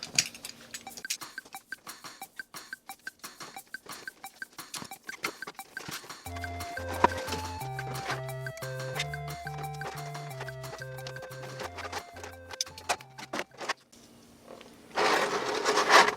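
A boxed Figuarts ZERO anime figure is unpacked by hand, with scattered light taps, clicks and rustles of cardboard and plastic packaging. Background music plays through the middle, and louder plastic crinkling comes at the end.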